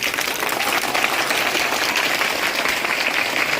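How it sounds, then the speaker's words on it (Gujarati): A seated audience at a Republic Day celebration in a Gujarati village applauds loudly and steadily, a dense, continuous wash of many hands clapping with no talk over it. "ઉભા થઈ જાઓ જોરદાર તાળી પાડો ભાઈ"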